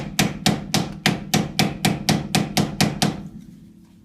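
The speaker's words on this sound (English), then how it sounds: "take your prying or chiseling device, put it in the split around the dust cap" Chisel struck by a hammer, working around the dust cap of a GM hub assembly, eleven loud, evenly spaced metallic blows at close range, then the ring fades away.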